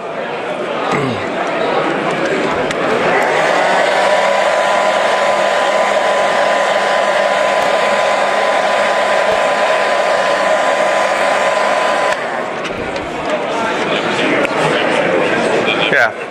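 A hair dryer blows a continuous steady whoosh for about eleven seconds while drying a layer of hairspray on a scale model, with talking around it and brief handling noises before and after.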